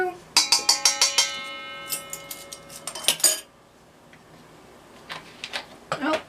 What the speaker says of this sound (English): Oh, and I dropped the lid.